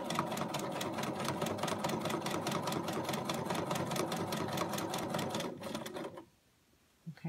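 A Bernina 440 sewing machine runs at speed while free-motion stitching on fabric, driven by hand with no stitch regulator. Rapid, even needle chatter is close and steady for about six seconds, then stops into near silence.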